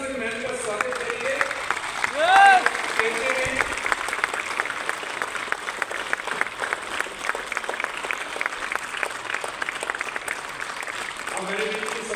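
An audience claps steadily and loudly to welcome a guest to a gathering, the applause running throughout, with a speaker's voice and a brief whistle-like tone rising over it early on.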